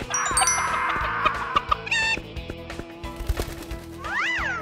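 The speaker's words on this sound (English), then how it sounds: "The chicken picked onto his hair" Clucking fowl squawks over a flurry of small taps and pecks, with a brief ringing tone and a rising-falling squeal near the end, all close and fairly loud in a cartoon fairy tale setting.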